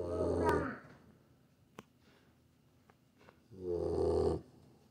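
An 11-week-old Bullmastiff puppy snoring, two loud, rasping, drawn-out snores separated by a quiet pause with faint small sounds, close by.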